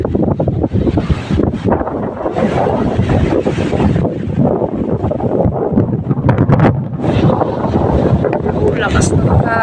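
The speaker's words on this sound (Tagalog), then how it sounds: "Oh, lakas ng hangin." Strong wind roars and buffets the microphone continuously, with a voice speaking underneath the gusts.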